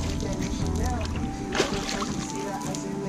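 Water sloshes and splashes continuously in a pool, with a louder splash midway, while people talk nearby.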